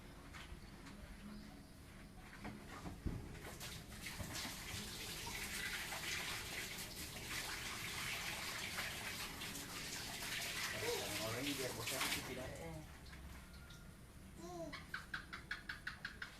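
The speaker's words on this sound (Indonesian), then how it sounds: "Oke, saya cuci tangan dulu ya guys." A tap runs steadily while hands are washed under it in a home kitchen, making a continuous splashing rush with brief gurgles near the end, fairly close and without talk.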